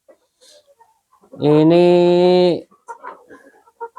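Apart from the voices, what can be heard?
chickens on a farm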